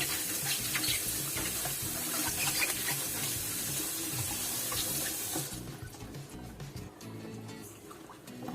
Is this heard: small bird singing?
no